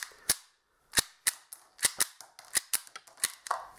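A P08-style 9mm PAK blank pistol fires a rapid string of about a dozen sharp, loud reports, close by and irregularly spaced, with brief quiet gaps between shots and no talking.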